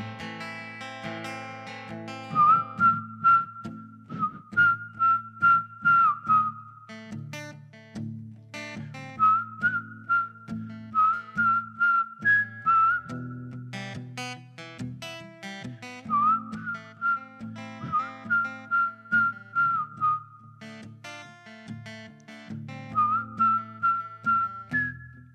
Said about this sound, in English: That whistling at the end's awesome